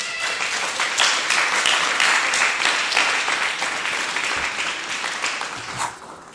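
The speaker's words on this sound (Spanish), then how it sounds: "Denle un aplauso al Rey de Reyes." A church audience applauds loudly and steadily, a dense wash of clapping from many hands that holds for several seconds before tapering slightly at the end.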